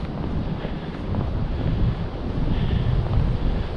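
Strong wind blows on a hiking trail along the East River on a cold, very windy day. The roar buffets the microphone heavily and rises and falls in continuous rumbling gusts, with no voices.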